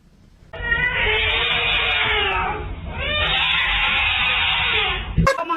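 A cat stuck in a floor lets out two long, loud, strained yowls in a row, each drawn out for a couple of seconds with a brief break between them, followed by a short clatter at the end.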